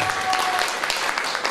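An audience at a house of culture concert applauds a band member being introduced, a dense, steady clapping from many hands that fills the room throughout.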